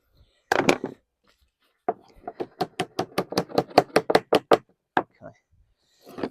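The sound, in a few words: knocking up lead flashing on a chimney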